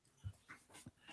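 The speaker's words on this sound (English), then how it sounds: "my dog is barking at something outside" A dog indoors reacts to something outside with a few faint, soft yips and whimpery huffs, spaced unevenly and heard from a distance.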